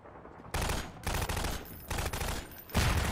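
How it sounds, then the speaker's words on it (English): Bursts of automatic gunfire in a Half-Life 2 uprising battle, several loud rapid volleys separated by short pauses, with no talk over them. "what are you shooting at?"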